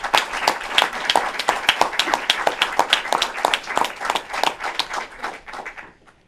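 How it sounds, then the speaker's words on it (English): An audience claps in a brisk, steady round of applause at a COVID-19 press briefing in New York City, holding for several seconds, then fading out. "That does deserve a round of applause."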